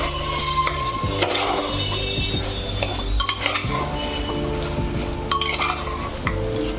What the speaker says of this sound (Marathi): आपण परत एकदा हे चांगलं हलवून घ्यायचं आहे